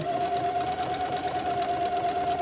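A sewing machine zigzag-stitches lace onto entredeux for a wedding ensemble, running steadily and continuously at close range with a sustained mechanical hum and no voices.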